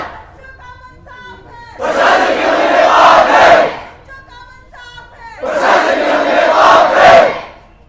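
Students at a protest sit-in chant slogans in two loud bursts of massed voices, each lasting about two seconds, separated by a lone voice leading the call.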